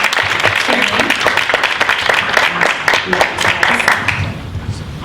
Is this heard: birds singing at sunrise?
no